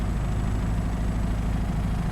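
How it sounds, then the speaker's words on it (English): A Jabiru aircraft engine fitted with Rotec liquid-cooled heads idles at roughly 800 to 1000 rpm, a loud, steady low rumbling drone with an even pulsing throb, close up and without talk. "So the engine's ticking over nicely at about, well, seems to be probably nicest at about 900, 1000."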